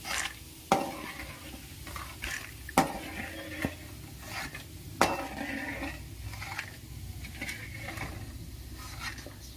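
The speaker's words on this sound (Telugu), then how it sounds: "ఈ ఆయిల్లోకి 1 కప్పు పప్పులు వేసుకోవాలి. వీటిని బాగా వేయించుకోవాలి." A cup of lentils is fried in hot oil for kaaram borugulu, a soft low sizzle broken by a few sharp metallic taps and stirring scrapes from a spoon against the pan. No one speaks.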